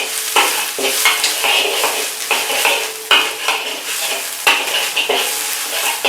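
Dry chilies stir-fry in a wok for General Tso's chicken, a loud, close sizzle broken by repeated scraping strokes of a spatula against the metal in a steady rhythm.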